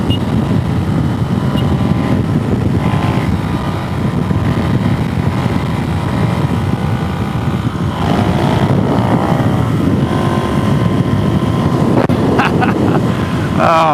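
Suzuki DRZ470 motorcycle riding on the road, a loud steady engine drone buried in heavy wind rush, with a rev change around an upshift into fourth gear partway through.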